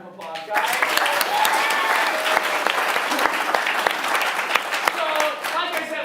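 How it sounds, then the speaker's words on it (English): An improv show audience breaks into sustained applause, a dense, continuous clatter of clapping that starts abruptly and holds steady for several seconds, with a few voices talking beneath it. "Give him a round of applause, guys."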